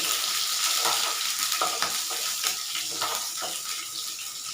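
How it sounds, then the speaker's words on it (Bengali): Chopped onion fries in a pan for a Bengali chicken curry, a continuous crackling sizzle with a few soft scraping stirs of a spatula rising through it, steady and close, with no talking. "এটাকে কুচু কুচু করে একটু ভেজে নেব।"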